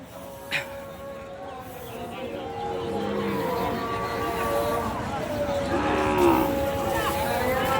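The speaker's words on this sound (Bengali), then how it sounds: "যে পাশে যে ডোগার ভিতরে যে গরুগুলা দেখতে পাচ্ছেন সুন্দর সুন্দর অসংখ্য পরিমাণ গরু" Cattle at a livestock market moo in long, low calls, one near and several farther off, over a steady murmur of crowd noise and a brief knock.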